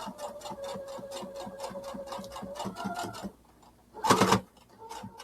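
A sewing machine stitches a small seam on a fabric popsicle holder, whirring with rapid, even needle ticks, then pausing briefly before a short louder burst of stitching.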